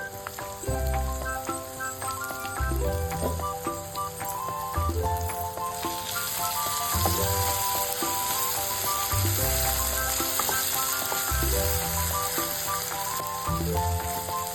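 Sliced ridge gourd (birakaya) fries in a pan with a steady, close sizzle that runs the whole time beneath prominent melodic background music.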